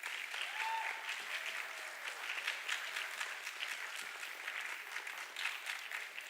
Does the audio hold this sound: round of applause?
yes